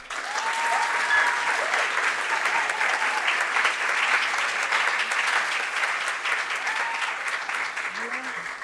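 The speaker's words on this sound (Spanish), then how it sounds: "recibamos con un gran aplauso" Audience applause welcoming a teacher onto the stage at an event on initial teacher training, a steady, dense clapping from a large crowd that carries on evenly for the full span.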